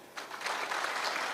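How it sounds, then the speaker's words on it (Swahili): An outdoor crowd at a public security forum in Kakamega bursts into applause, a dense, loud clapping that swells quickly and holds steady for a moment. "pigia yeye makofi"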